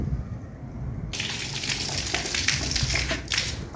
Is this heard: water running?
yes